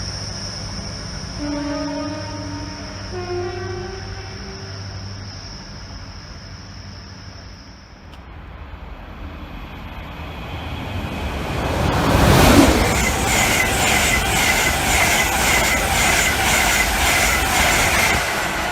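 A train rumbles through Grantham station, first a steady drone with a long, high horn-like tone, then a loud rush as it passes close with rattling wheels and clatter that stays heavy to the end.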